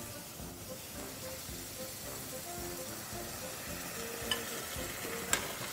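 Coconut cream is added to a pan and stirred, making a faint, steady sizzle and hiss with soft stirring scrapes and a couple of small clicks near the end, with no talking.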